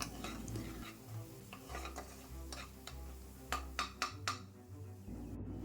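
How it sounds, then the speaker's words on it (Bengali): Spices, ginger, onion and garlic being sautéed in a pan for a pointed gourd and prawn dish: quiet sizzling beneath repeated stirring scrapes and metallic clinks of a utensil against the pan, growing busier toward the end. "তারপর সমস্ত মশলা আদা পেঁয়াজ রসুনের সাথে খুব ভালো করে মিশিয়ে নিয়ে কষিয়ে নেব"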